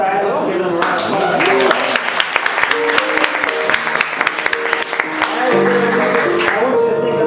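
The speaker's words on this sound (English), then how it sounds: "Let's give them a round of applause." Audience claps for performers at a live improv comedy show, a lively round of applause with sharp individual claps standing out over music and a murmuring crowd.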